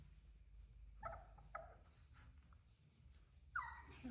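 A sleeping puppy, a young doodle, lets out a few soft, high whimpers and yips while dreaming. They come in short bursts over a quiet, low background hum and are faint and close.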